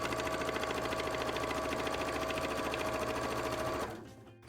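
Sewing machine stitching steadily and close, a dense continuous mechanical whir with rapid needle rhythm, cutting out abruptly near the end as the bobbin thread runs out; no talking.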